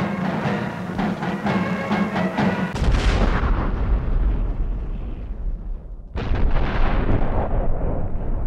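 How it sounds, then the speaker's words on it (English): Heavy wartime bombing explosions of the Blitz on Plymouth in WWII, a sound effect of deep rumbling blasts: a dense rattle of detonations, then a huge boom that decays and a second loud blast near the end. "For its size, Plymouth was the most heavily bombed city in the country."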